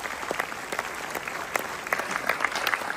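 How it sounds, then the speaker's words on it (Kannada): Steady audience applause fills a hall after a speaker asks people to congratulate Dr. Gowrishankar at an event unveiling a new king cobra species, many hands clapping densely and evenly at moderate volume with no talk. "ಚಪ್ಪಾಳೆ ತಟ್ಟಿ ಮಾನ್ಯ ಡಾಕ್ಟರ್ ಗೌರಿಶಂಕರ್ ಅವರಿಗೆ ಅಭಿನಂದಿಸಿ"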